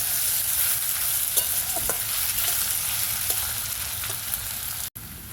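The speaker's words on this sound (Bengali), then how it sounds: "আলুটাকে একটু ভালো করে ভেজে নেব" Potatoes frying in a pan for flattened-rice pulao, a constant loud sizzle with scattered scrapes and taps of a utensil stirring, ending in a brief sharp clatter near the end.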